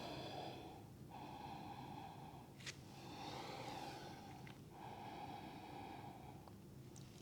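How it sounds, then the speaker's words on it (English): Slow, deep breaths held in a yoga pose during a morning vinyasa class: long airy inhales and exhales, close and soft, with a brief sharp intake in the middle and no talking. "Let's take 5 deep breaths."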